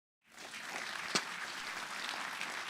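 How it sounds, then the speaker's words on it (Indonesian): An audience at a mindfulness festival talk breaks into applause, a steady wash of clapping that starts suddenly from silence, with one sharp louder clap in the middle. "Tepuk tangan dulu."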